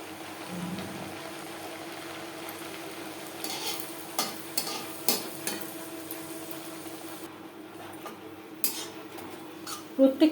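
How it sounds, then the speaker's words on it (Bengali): Moong dal kachori fry in hot oil over a faint, steady sizzle. Intermittent scrapes and clinks of a utensil against the pan grow louder toward the end. "প্রত্যেকটা কচুরি একইভাবে ভেজে নেব।"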